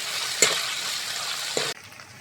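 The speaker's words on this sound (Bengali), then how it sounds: "পোস্তটা ভালো করে ভেজে নেব, তাহলে পোস্তর সেন্টটা পাওয়া যাবে।" Poppy seeds fry in a pan for jhinge posto with a steady close hiss, broken by a couple of soft stirring knocks, before the sizzle cuts off abruptly near the end.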